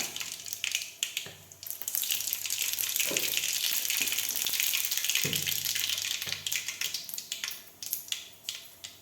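Mustard seeds dropped into hot oil in a home kitchen while cooking a Tamil rice and lentil dish, giving a steady broadband sizzle and spluttering that swells and fades for several seconds, with occasional louder bursts and no talking.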